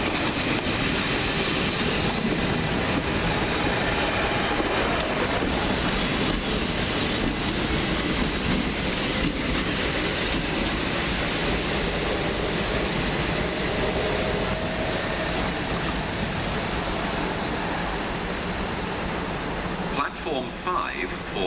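A test train hauled by Class 73 locomotives on the line to Purley: a steady, broad rumble and hum of passing rail vehicles lasting throughout, with a brief clatter near the end.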